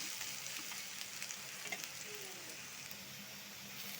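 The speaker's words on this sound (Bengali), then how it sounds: "তো এই যে পেঁয়াজটা ভাজা হচ্ছে" Onions frying in a pan for a prawn bhuna, an even, fairly quiet crackling sizzle with occasional small pops, heard alone without any talk.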